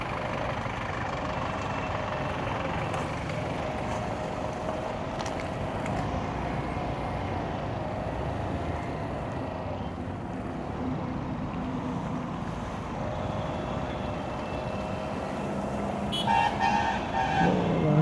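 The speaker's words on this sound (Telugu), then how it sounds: "ఒక లారీ ఆగిపోయింది. సో దానివల్ల ఐ థింక్ మొత్తం ట్రాఫిక్ జామ్ అనుకుంటా." Roadside traffic jam on the highway between Badvel and Hyderabad, with a stalled lorry holding up vehicles; a steady low rumble of idling trucks and cars fills the scene, with a few car horns tooting near the end.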